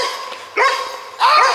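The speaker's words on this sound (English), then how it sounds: "Little poodle, B40." A small poodle at a campground site gives two sharp, close barks about half a second apart, each loud and short, over a quiet background.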